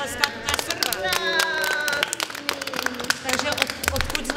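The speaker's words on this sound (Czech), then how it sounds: "Teď si můžete zatleskat" Group of children clapping together, brisk uneven rapid claps close by, mixed with an adult talking over them and background chatter in a room.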